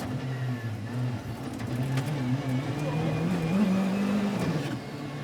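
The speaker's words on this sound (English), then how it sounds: "he lost his turbo near the stage end and was forced to withdraw for the day" A Rally 2 car running on a rally stage just after losing its turbo, the engine droning steadily with a wavering low note, close and continuous for several seconds.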